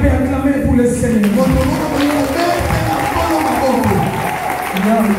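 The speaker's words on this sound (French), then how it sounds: "Quelqu'un peut acclamer pour le Seigneur." Church congregation applauding for the Lord, a full room of clapping mixed with voices and cheers, loud and sustained across the whole moment, with people talking and calling out over it.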